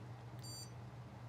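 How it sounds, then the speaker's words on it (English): A handheld controller gives one short, high electronic beep as it is tilted into its up modifier position, heard faintly over a low steady hum. "when I tilt this up, it beeps to say, okay, you're in this up modifier position"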